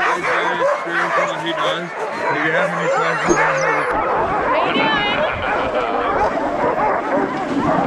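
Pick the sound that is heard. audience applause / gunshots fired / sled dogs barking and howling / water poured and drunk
sled dogs barking and howling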